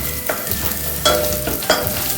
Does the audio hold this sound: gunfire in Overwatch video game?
no